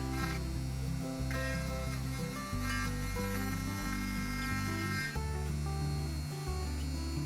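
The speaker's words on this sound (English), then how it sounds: "using the burring tool, just take a little bit off the burrs off the end of the axles" A small rotary burring tool grinds burrs off the ends of Matchbox toy car axles, giving a continuous whirring, buzzing motor drone with shifting pitch and grinding texture throughout, close and steady.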